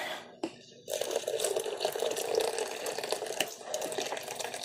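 Steady splashing of hot water poured continuously into a sink drain, with a brief gurgle and drip near the start, close by.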